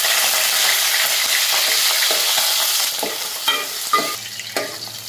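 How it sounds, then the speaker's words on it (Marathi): Mutton fat frying in a hot pan, with a dense, loud sizzle that fades toward the end into scattered crackles and stirring clinks, close up with no talking. "आता याच्यामध्ये मी ही चरबी आहे ती जरा गरम करून घेऊया"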